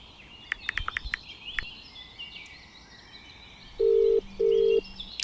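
A telephone dials out with a few short tone blips, then after a pause two loud steady ring tones sound close by, over a faint background with some bird chirps.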